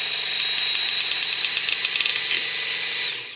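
A Work Sharp Ken Onion Edition knife sharpener running its belt, a steady loud motorized whir with a faint rattle, close and continuous before winding down at the end.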